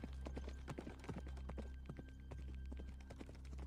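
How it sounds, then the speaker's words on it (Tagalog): Horse hoofbeats sound effect: a brisk, steady clip-clop of hooves repeating rhythmically throughout, over a low constant hum. "parang yabag ng isang kabayo sa di kalayuan"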